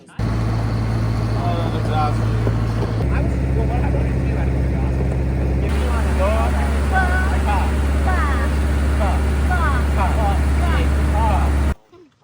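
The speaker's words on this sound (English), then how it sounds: "Thanks to Asher's little ride with the tractor there." Steady low engine drone of a tractor carrying riders over farm ground to a cow pasture, loud and continuous throughout, with people talking over it.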